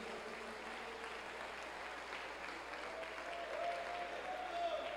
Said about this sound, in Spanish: A su nombre, dele palmas a Dios, dele gloria a Dios.